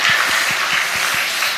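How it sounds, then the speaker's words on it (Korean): A church congregation applauding the choir during a Sunday Baptist worship service: steady, dense clapping from a large room, fairly loud and close, with faint low thumps pulsing underneath and no voices over it. "우리 성가들 위해서 한 번 더 박수 한번 해주시고"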